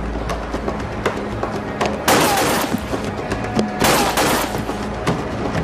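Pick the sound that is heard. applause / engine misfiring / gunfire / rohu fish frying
gunfire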